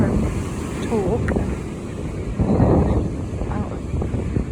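Gusty wind blows outdoors on a cloudy, dry day, rumbling steadily across the microphone and swelling around the middle, with a faint voice underneath.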